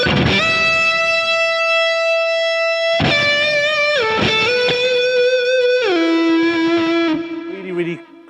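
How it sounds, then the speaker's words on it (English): Stratocaster electric guitar played through the neck pickup with a creamy, thick lead tone: sustained singing notes and slides with rich harmonics, loud and close, played alone. "Really creamy and thick kind of sound, and that's on the neck pickup."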